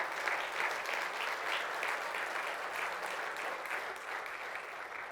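Steady applause from a church congregation during a Spanish-language service: dense, even clapping at moderate volume with no talking over it for the whole stretch.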